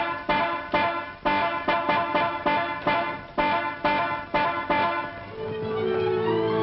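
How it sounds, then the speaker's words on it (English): A car horn sounds in a 1937 action comedy, a string of short repeated honks in an uneven rhythm, loud and close, giving way to a steadier tone at the end. "who's been honking my horn for the past 5 minutes"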